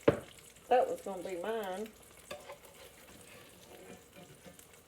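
Egg frying in a pan next to bacon, a faint steady sizzle and crackle under brief talk at the start.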